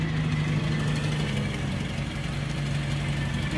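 A rally car's engine idles steadily with a low, even hum and constant mid-range drone, close and uninterrupted.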